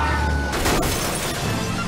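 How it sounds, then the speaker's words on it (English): A motorcycle rear-ends a truck: a sudden metallic crash and smash cutting through steady road noise, followed by a lingering rumble; loud and close, no talking. "That motorcycle cop just rear-ended that truck."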